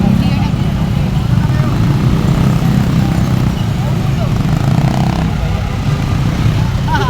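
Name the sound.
motorcycles riding in a convoy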